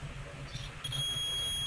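Continuity beep from a multimeter touching fuse F6201 on a PS4 board, a steady high electronic tone starting partway in and holding to the end over faint background hum.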